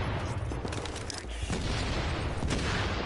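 Continuous gunfire in The Division during a Clear Sky incursion, dense overlapping shots forming a steady loud barrage without pause, with a mortar also active in the fight.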